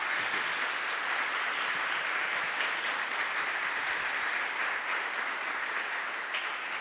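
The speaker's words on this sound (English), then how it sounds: "Please give a round of applause to Patrick and Daniel." An audience at a design talk on the Bauhaus gives sustained applause, a loud, dense and even roar of clapping from many hands that continues unbroken with no speech.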